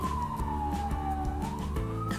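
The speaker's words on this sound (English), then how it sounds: "sirens." A wailing emergency siren sweeps down and back up in pitch, loud and steady, with a low rumbling engine-like drone underneath.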